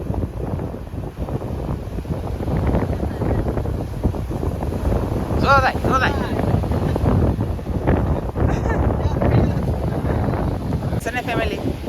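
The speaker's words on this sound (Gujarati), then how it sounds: "પવન બહુ ગાજતો છે" Strong sea wind roars and buffets the microphone on a fishing boat in a continuous rough rumble, while people talk over it.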